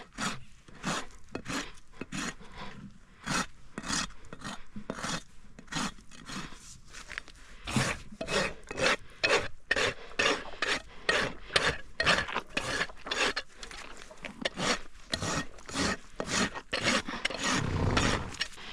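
A rasp files a horse's hoof during corrective barefoot trimming, smoothing the edge after nippers, in quick repeated rough scraping strokes, close and fairly loud, with short pauses between bursts.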